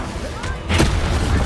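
The Confringo explosive spell in Hogwarts Legacy goes off as a single heavy, booming blast partway through, followed by a rumbling tail over low ambient noise.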